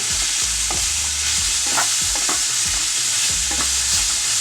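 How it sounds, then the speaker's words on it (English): Food fries in a little oil in a pan under a steady, loud sizzle, with rhythmic scraping stirs roughly every half second; no voices. "Let that fry for a bit"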